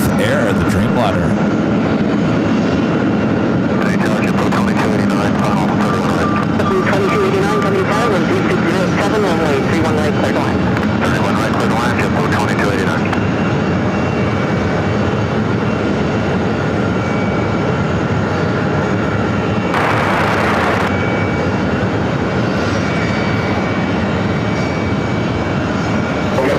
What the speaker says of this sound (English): At Air India, the 777-300ER starting this taxi will head out to 31 left.